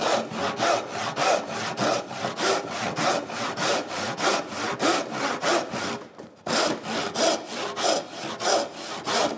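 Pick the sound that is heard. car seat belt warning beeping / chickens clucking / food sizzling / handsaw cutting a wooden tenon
handsaw cutting a wooden tenon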